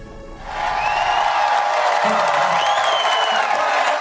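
A studio audience bursts into cheering and whooping after a brief quieter moment, then holds a steady, loud swell of shouts and applause to the end.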